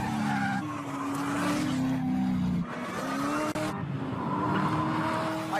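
A Chevrolet Corvette C6 ZR1 drives hard and brakes, its engine droning under loud, sustained tire squeal and skidding that rises and dips over a few seconds, close and alone without talk.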